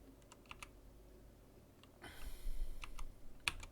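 Keys on an IBM PC keyboard are tapped in a few sparse, crisp clicks, then a denser burst of clattering keystrokes follows, with one sharper click near the end. The typing is close and fairly quiet.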